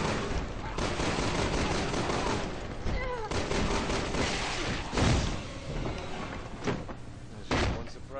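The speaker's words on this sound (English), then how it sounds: "Yeah, we gotta shoot." Gunfire in Resident Evil 6, dense rapid shots and loud bursts filling the whole stretch, with sharp impacts cutting through a busy game mix.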